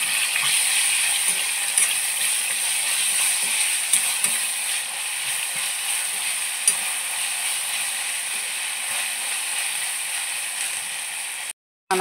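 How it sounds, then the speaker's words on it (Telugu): Ginger garlic paste fries in a hot pan for a Telugu drumstick and tomato masala curry, a loud continuous close sizzle with faint scraping stirs, nearly unbroken until it cuts out briefly at the end. "దీంట్లోకి అయితే సరిపోయిన అల్లం వెల్లుల్లి పేస్ట్ వేసేసుకొని పచ్చివాసన పోయేంత వరకు ఫ్రై చేసుకుందాం."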